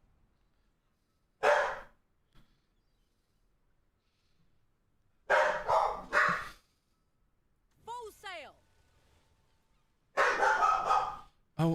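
Dogs in a video game give several short, loud bursts of barking separated by quiet gaps, with a person talking between them.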